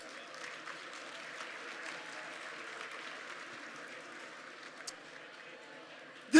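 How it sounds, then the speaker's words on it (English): A crowd at a sports association awards event applauds the auctioneer, a steady, moderately loud wash of clapping that holds evenly throughout, with a sharp knock at the very end. "How about a round of applause for our auctioneer?"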